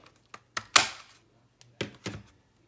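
A 2.5 inch hole punch cuts a notch into a paper pocket, giving a few sharp close clicks and thunks, one stronger crunch of the cut, then two lighter clacks as the punch is released, in quiet surroundings.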